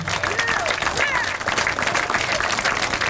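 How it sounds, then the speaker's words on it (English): Dense applause from a crowd at a time capsule reveal and groundbreaking ceremony, steady clapping filling the room with a few voices mixed in. "If we could have a round of applause for them."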